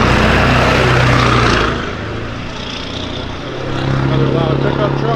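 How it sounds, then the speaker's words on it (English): A loud pickup truck roars past on a small-town main street in Munfordville, Kentucky, its engine rumble strong at first, easing off, then swelling again as it goes by close to the listener. "Another loud pickup truck."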